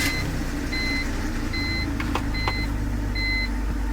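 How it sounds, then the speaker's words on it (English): A BMW E46 325i chimes after the key goes into the ignition: a steady run of about five short, evenly spaced electronic beeps inside the car over a constant low hum. "I just don't want the beeping sound to play."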